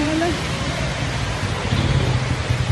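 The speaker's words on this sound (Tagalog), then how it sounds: "Umuulan na" Steady rain falls over an open market in Herona, a dense hiss with low rumbling beneath it, continuous and fairly loud throughout, with faint voices briefly audible near the start.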